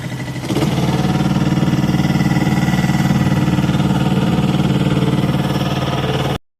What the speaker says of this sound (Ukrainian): Ось так працює двигунець на холостих.